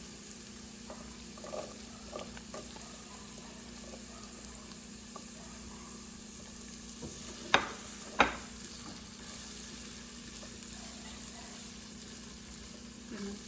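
Onion frying in a pan on a gas flame for veg manchurian, a soft steady sizzle running throughout with faint stirring and two brief sharp clinks of a utensil near the middle.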